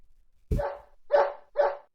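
A man imitates a dog with his voice, giving three distinct bark-like woofs, the first sharp and loud, the next two slightly shorter, each rising from near silence.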